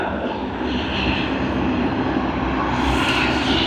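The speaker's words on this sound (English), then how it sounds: "The Dash 8 400." A Dash 8 400 turboprop at Sydney Airport gives a loud, continuous engine roar that stays steady and close the whole time.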